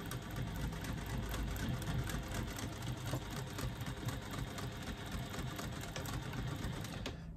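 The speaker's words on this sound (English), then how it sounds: "I'm going to do a second line of top stitching, of stitching, 1/8 of an inch below that original line of stitching" A sewing machine runs steadily, top stitching a second line of stitches on a pop-it pouch, producing a continuous fast mechanical chatter, close and even throughout.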